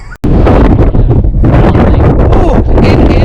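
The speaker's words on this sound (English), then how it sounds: "It is windy." Strong wind roars and buffets a microphone outdoors during a winter drive to a glacier, a loud, continuous rumbling gust that starts right after a brief dropout and persists throughout.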